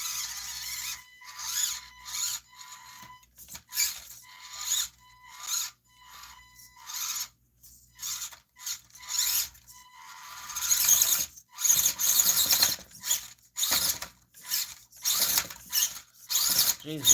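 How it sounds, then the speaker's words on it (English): A brushed buzzsaw motor drives an RC crawler truck over indoor couch obstacles, giving bursts of high whining squeal with ratcheting gear chatter in stop-start pulses, loud and close, louder and more continuous near the end. "the motor, which is still a brushed motor. The buzzsaw, mofo buzzsaw motor"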